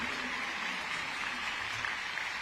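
An audience at a political rally in Raigad, Maharashtra claps loudly at a speaker's call, a dense steady roar of applause filling the whole moment.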